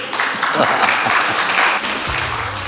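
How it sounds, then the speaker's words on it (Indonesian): An audience at a school event for SMK Negeri 5 Malang applauds, a loud, dense patter of clapping with some low murmuring and a brief tonal sound near the end. "Iya, tepuk tangan, yuk"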